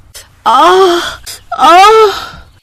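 A girl lets out two loud, drawn-out wailing screams, close by, with a short break between them.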